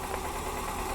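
Toyota Corsa with the 5E-FHE engine running with a knock, a dense continuous mechanical clatter and hum heard close up, loud and unbroken for under a second, no voices.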